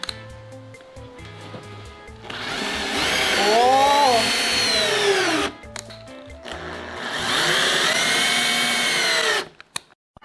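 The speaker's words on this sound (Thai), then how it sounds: "ตอนนี้เรากำลังทำการเจาะ เจาะยึดตำแหน่ง" A power drill whines loudly up close in two long bursts, its pitch rising and falling as it bites into wood, with short pauses between.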